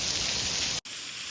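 Heavy rain pouring during a thunderstorm, a loud steady hiss of falling water that briefly cuts out near the end before resuming.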